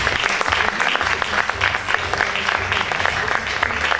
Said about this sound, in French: Notre chorégraphe, merci d'applaudir Charlotte Forestier.